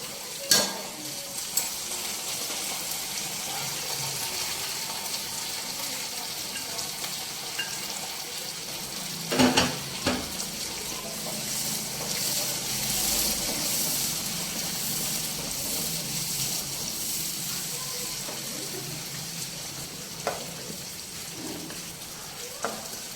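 Green chilies fry in hot oil in a pan, a steady, close crackling sizzle that runs throughout, broken by a few sharper pops and stirring clinks.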